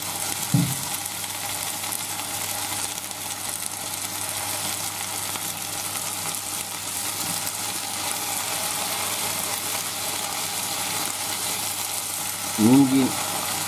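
Garlic frying in a hot pan gives a constant close sizzle throughout, with a short knock or scrape at the start and another near the end.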